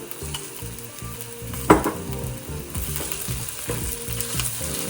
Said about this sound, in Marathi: आता मी त्याच्यामध्ये 2 चमचे कांदा आणि लसणाची पेस्ट टाकते.